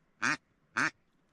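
Mallard ducks on a lake give two clear, separate quacks about half a second apart, close and loud against a quiet background.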